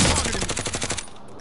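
Rapid automatic gunfire from a video game, a loud sustained burst of evenly spaced shots for about a second before cutting off.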